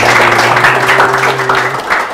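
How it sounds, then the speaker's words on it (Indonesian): A loud, dense round of audience applause at a local tourism-promotion event in Tabalong, with many hands clapping continuously at close range. "Luar biasa, tepuk tangan lagi."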